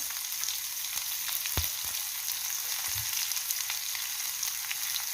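Chopped onion frying in hot oil with garlic in a pan for a spicy tender coconut vegetable dish, a steady close sizzle with a few sharp crackles and a soft thump, no voices.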